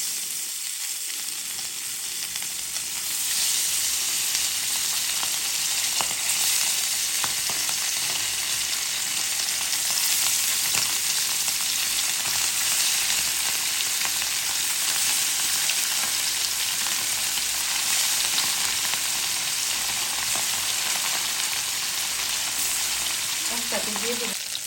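Fish frying in oil in a home kitchen, a steady loud broadband sizzle that continues without a break, with occasional stirring and light clatter and no talking.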